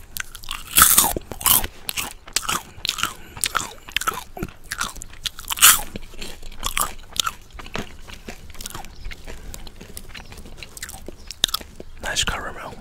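Caramel popcorn crunched and chewed up close, outdoors: dense, loud, irregular crunches and bites follow one another steadily throughout, with occasional soft rustles between mouthfuls.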